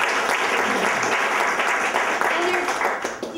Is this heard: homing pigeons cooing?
no